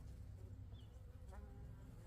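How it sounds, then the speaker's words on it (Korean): Honeybees clustered on two frames in the upper box of a hive in late autumn, a dense steady buzzing hum filling the clip with no talk. "이 벌이 하단에 있죠"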